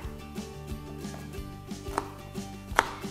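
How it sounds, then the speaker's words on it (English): A knife finely chopping jalapeños on a board, with soft regular taps spaced evenly and a couple of sharper knocks, faint and close under a low background hum. "And then I'm going to go through and chop them pretty finely."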